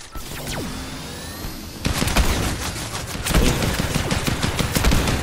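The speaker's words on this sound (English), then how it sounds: "still working on my aim with the ray gun" Ray gun fire in Fortnite, a rapid burst of close, sharp zapping shots that starts after a quieter moment and keeps a dense, loud rhythm to the end, with no talking.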